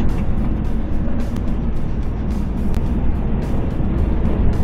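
Steady road traffic rumbles continuously on a highway near Lyon, with cars passing by at moderate loudness and no voices over the engine and tire noise.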